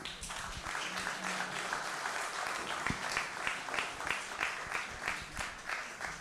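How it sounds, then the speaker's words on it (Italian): An audience at a public political meeting in La Maddalena, Sardinia, applauds a speaker with steady, dense clapping that fills the room, moderately loud and continuous throughout with no talk over it. "Prego Lorenzo, un applauso, grazie."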